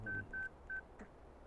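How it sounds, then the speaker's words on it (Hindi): A phone number is dialed as three short, clear touch-tone beeps in quick succession, quiet and close, followed by a faint softer blip. "शिवा को फोन करता हूँ।"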